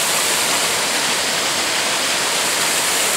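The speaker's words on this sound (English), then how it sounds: "there's the main waterfall of this Japanese garden." Main waterfall in a Japanese garden pours in a steady, loud, broadband roar, a continuous rush of falling water close by with no other sounds.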